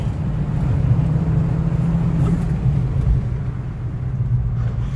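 An Abarth 595 in sport mode climbs a steep, winding road, its engine a loud, deep, continuous drone with a steady low rumble heard from inside the car.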